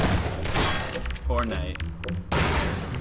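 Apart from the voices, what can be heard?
gunshots in the video game Garry's Mod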